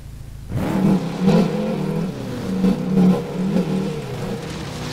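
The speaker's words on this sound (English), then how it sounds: "Hear that diesel motor tick over." A Toyota Hilux diesel engine runs at a steady, close, low rumbling idle with slight fluctuations in level throughout, alone without talking.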